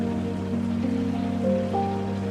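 Rain patters steadily during a car journey, a constant wash over the low hum of the engine inside the vehicle, with no talk.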